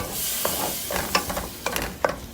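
Tomato puree hits a hot pan for a Navratan curry, giving a close, steady sizzle broken by short scraping bursts as it is stirred.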